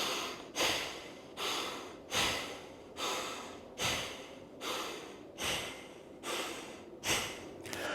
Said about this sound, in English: I can practice on slowing it down and breathing throughout the motions where it sounds like this